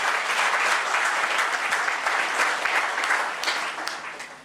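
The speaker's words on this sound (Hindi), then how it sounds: "अपने लिए ताली बजाइए, आप बहुत अच्छे लोग हैं।" A church congregation claps for themselves during a Hindi sermon, a dense, steady wave of applause that fills the whole moment and eases off slightly toward the end.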